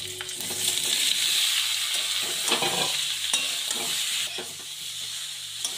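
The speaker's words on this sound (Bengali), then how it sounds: "এঁচড়গুলো ভেজে নিচ্ছি।" Green jackfruit pieces frying in mustard oil, a continuous close sizzle with bursts of crackling as the pieces are stirred, easing slightly toward the end.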